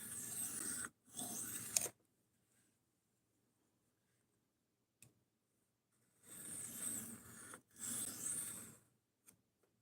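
A knife edge is drawn across a sharpening stone to remove the burr, giving several short, close, raspy scraping strokes separated by silence.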